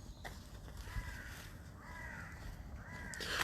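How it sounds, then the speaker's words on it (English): Crows give a few hoarse caws in the early morning in London, three drawn-out calls at a moderate distance over a faint steady city background. "What I particularly like at this time in the morning is the bird song, because that is the perfect way to wake up."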